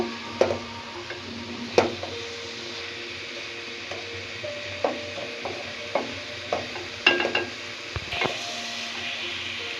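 Prawn malai curry masala with marinated prawns being stir-fried in a pan, a steady low sizzle under repeated clinks and scrapes of a spatula against the pan, close and moderately loud, no voices.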